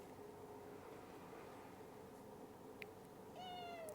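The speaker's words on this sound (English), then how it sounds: "Meow. What do you want, cat?" A cat gives a single drawn-out meow near the end, following a few seconds of quiet room noise.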